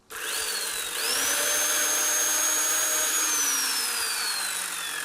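Gasoline chainsaw with a chain freshly sharpened using a Dremel, cutting through roots sticking out of the ground; a loud, steady high-revving engine whine runs throughout, rising in pitch after the first second and easing slightly near the end.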